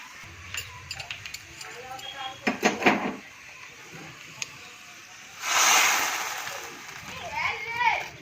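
A few clinks and clatters of utensils, then a loud hissing sizzle erupts as hot oil tempering is poured over yellow moong dal, fading gradually, with speech in between.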